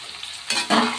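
Shrimp and onions are stirred in a frying pan. A low sizzle gives way to two quick, close bursts of scraping and sputtering as the pan contents are moved.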